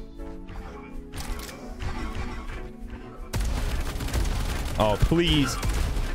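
Shotgun blasts in the free-to-play arena shooter Diabotical, heard as loud booming shots among busy in-game action. A player briefly exclaims partway through.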